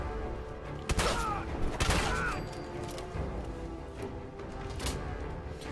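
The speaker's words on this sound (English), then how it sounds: "Okay, shotgun time." Fallout 4 survival-mode combat: a few heavy shotgun blasts ring out close and loud, spaced about a second apart, with echoing booms trailing after them and little talk over the noise.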